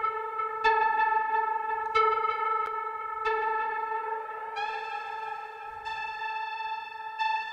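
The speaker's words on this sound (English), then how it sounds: "probably add some delay and some reverb just to kind of get it sounding a bit more spacey" Teenage Engineering OP-1 synthesizer playing sustained tonal notes with delay and reverb effects, tones repeating and overlapping into a spacey, echoing wash, with a few note changes and pitch shifts along the way.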